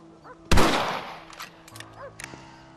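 A single sharp rifle shot rings out in Red Dead Redemption, a loud crack with a fading tail, followed by quiet conversational voices.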